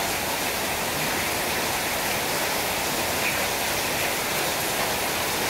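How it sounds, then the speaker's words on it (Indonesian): Heavy rain pours steadily over a housing estate, a dense, continuous hiss and patter filling the whole stretch with no letup and no voices. "2 jam hujan sangat deras di perumahan Pakuan Regensi ini"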